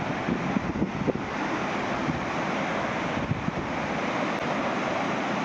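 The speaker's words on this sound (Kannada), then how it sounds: "ಇಲ್ಲಿಂದ ನೀರು ಬೀಳೋದು." Jog Falls in Shivamogga sends up a constant broad roar of falling water, steady and dense with some wind buffeting, and no one speaks.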